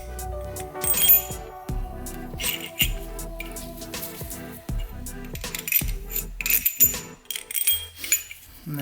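Main bearing cap bolts from a twin-turbo LS short block for a 350Z clink and rattle metallically as they are picked up and flipped, a close, irregular series of sharp clanks and jingles with no talking.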